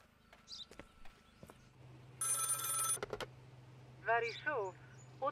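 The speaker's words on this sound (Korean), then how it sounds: "오늘도 어김없이 걸려오는 신고 전화" In the video game Contraband Police, a telephone rings with an incoming report call: one short electronic ring burst over quiet background hum, followed by a few brief chirpy tones.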